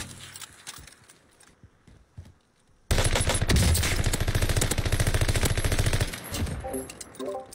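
Rapid automatic gunfire from an online competitive shooter match, a dense, loud burst lasting several seconds after a quieter stretch, then trailing off into scattered shots.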